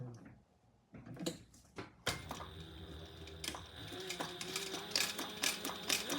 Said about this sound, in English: And now we are going to sew that